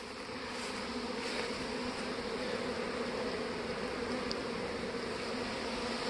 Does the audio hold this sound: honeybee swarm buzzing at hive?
yes